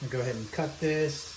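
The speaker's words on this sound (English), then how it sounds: "you can hear the bacon frying in the background" Bacon fries in a pan with a soft sizzle hissing steadily under a man's nearby speech.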